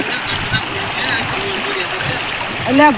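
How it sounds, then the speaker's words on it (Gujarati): River water flows steadily in the background while people talk nearby. "હું તમને નદી બતાવું"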